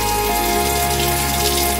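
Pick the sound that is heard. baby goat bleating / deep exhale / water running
water running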